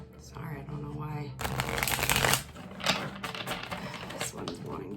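Tarot cards are riffled and shuffled by hand in quick, crisp bursts of flapping and clattering, close up, after a brief spoken voice at the start.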